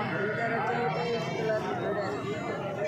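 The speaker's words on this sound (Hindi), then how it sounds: "इस तरह की बड़ी भेड़ें रखे हैं।" Sheep bleat repeatedly at a Pakistani sheep farm among large sheep and lambs, the calls overlapping into a continuous, busy flock din with people talking throughout.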